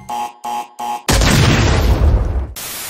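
Three short electronic beeps give way to a loud, roaring explosion sound effect that rumbles for about a second and a half before cutting off abruptly, tied to Windows XP error messages.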